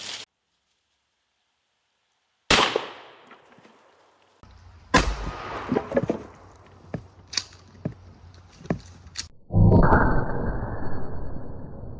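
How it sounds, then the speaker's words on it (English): A 12 gauge shotgun fires high brass buckshot: a sharp, loud blast followed by several quieter metallic clacks and knocks of the action, then a noisy rustling burst near the end. "Last but not least, we have our 12 gauge shotgun. We're going to be shooting some high brass. It is buckshot."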